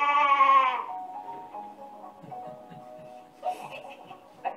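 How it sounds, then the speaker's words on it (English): A sheep gives one loud, close, wavering bleat at the start, followed by faint scattered low sounds and a short burst of noise later. "Sheep noises."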